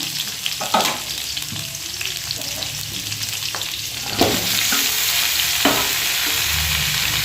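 Mixed vegetables and torn green chillies frying in hot oil give a loud, close sizzle with stirring scrapes. The hiss swells after a few seconds and carries on steadily with no talk.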